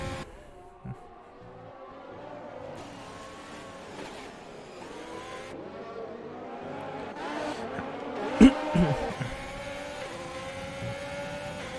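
A Ferrari Formula 1 car in a racing video game at the French Grand Prix, its engine droning steadily with shifting pitch, joined by other cars, and a sharp louder burst of revving near the end.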